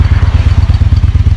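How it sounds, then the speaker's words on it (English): An Indian Chief Vintage motorcycle engine runs close by on Route 66, a steady throbbing low rumble with quick even pulses and no voices over it. "Well, that sound is Indian Chief Vintage running,"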